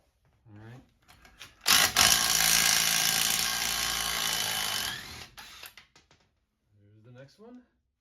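A power tool removes the wheel bolts from a bus in one loud, sustained whirring burst lasting about three seconds. Someone talks before and after it.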